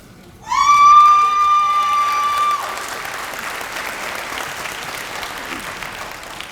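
A crowd at a 2024 early college graduation ceremony bursts into loud applause with a few whoops and whistles, the clapping gradually thinning out over several seconds.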